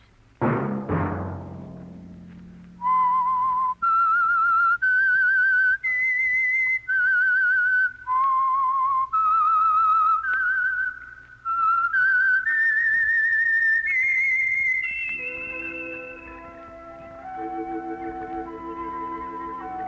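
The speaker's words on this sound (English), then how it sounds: "Let that whistle be your signal for the Signal Oil program, The Whistler" A lone whistler performs the eerie theme signal of the Signal Oil radio program The Whistler, a clear, sustained melody of held and gliding notes that opens with a chime-like hit and fades into soft orchestral backing.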